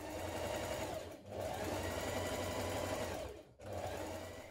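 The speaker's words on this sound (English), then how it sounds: "we're going to stitch it around here with a 6mm seam" A sewing machine stitches a jeans pocket front to its pocket lining with a 6mm seam, a steady close whirring hum that pauses briefly twice before starting up again, with no talking.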